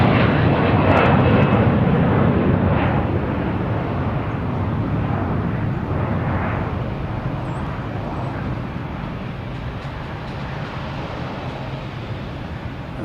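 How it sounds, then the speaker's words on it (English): A jet airliner takes off from Boston Logan Airport with a loud, steady engine roar that fills the whole stretch. The roar eases off slightly toward the end, and no one speaks over it. "that beautiful sound of the plane taking off"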